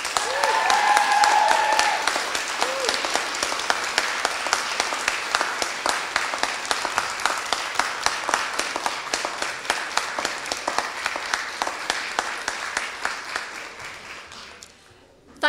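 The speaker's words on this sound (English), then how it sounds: "please can you give them a generous applause of thanks" Graduation guests at Bury College give a long, generous round of applause, dense clapping from a big audience that gradually thins toward individual claps before stopping abruptly at the end.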